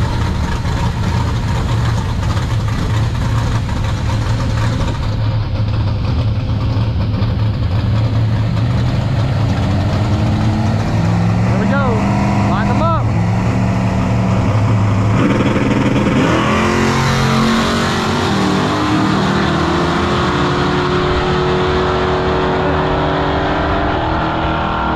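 A drag-racing street car roars loud and sustained at Skeleton Raceway, its engine note rising and shifting as it launches down the strip before tapering into steady track noise.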